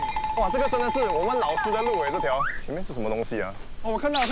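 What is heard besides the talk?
crickets chirping loudly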